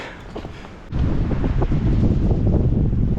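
Strong, cold wind roars against the microphone on snowy Gyebangsan mountain during a heavy snow advisory, swelling suddenly into a loud, steady buffeting gust after a quieter moment.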